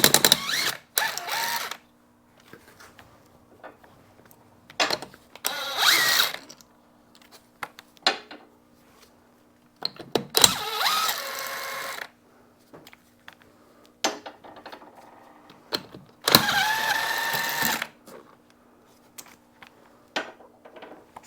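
An impact gun spins wheel lug bolts off in short bursts, about five separate whirring runs of one to two seconds each, close and loud, broken by quiet gaps with small metallic clinks and handling noises.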